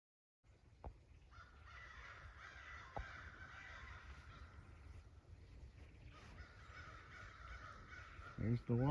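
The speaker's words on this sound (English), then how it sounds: "I had a bunch of crows fly in" Crows cawing in a nature preserve, a flock calling at moderate distance over steady outdoor ambience, with a few sharp clicks and some talk toward the end.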